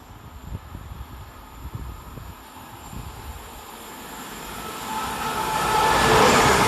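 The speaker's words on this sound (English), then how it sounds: "Next pass through the station is 397007, working 1 Sierra 81 for Transpennine Express from Manchester Airport to Carlisle." A TransPennine Express Class 397 train, unit 397007, passes through Burnage station, its rumble approaching from a distance and swelling into a loud rushing roar of wheels on rails.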